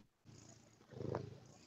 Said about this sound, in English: I can hear your cat purring.